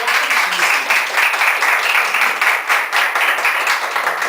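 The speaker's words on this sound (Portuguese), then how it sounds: "Uma salva de palmas" Studio audience applause on a Brazilian youth debate program about politics and religion, loud, close and continuous, with many hands clapping in a steady, even stream.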